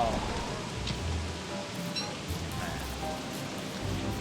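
Steady rain falls in the video game Don't Starve, a continuous hissing patter with faint scattered tones above it.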